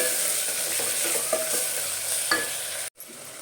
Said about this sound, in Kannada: ಈಗ ಮ್ಯಾರಿನೇಟ್ ಮಾಡಿದ ಸೋಯಾ ಚಂಕ್ಸನ್ನು ಇದಕ್ಕೆ ಸೇರಿಸ್ಕೊಳ್ಳಿ ಸ್ವಲ್ಪ ಚೆನ್ನಾಗಿ ಫ್ರೈ ಮಾಡಿ